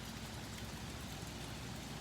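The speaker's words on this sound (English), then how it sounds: "Well, it's raining." Steady rain falls outdoors, a dense, even hiss of drops on surfaces with no breaks, close and moderately quiet, with nobody speaking.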